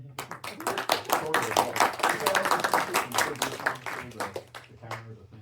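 An audience claps after a startup pitch at an event, a loose burst of hand claps that fades out, with voices talking over it.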